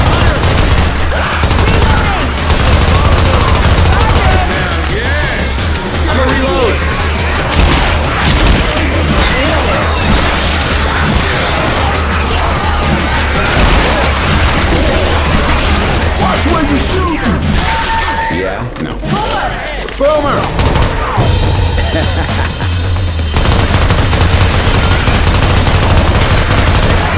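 Dense gunfire from the video game City 17: Aftermath, with rapid automatic bursts, single shots, crashes and booms nearly nonstop and loud, and shouting voices mixed in among the shooting.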